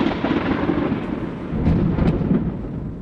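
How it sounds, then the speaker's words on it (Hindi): Deep, rolling thunder rumbles steadily throughout, swelling louder toward the middle, with a faint hiss above it and no voices. "आकाश में अशुभ बादल गरजने लगे।"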